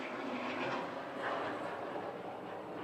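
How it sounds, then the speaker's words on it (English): An airplane passes overhead outdoors, a steady, broad engine roar that swells slightly midway and stays fairly loud throughout, with no voices. "now there is an airplane passing by"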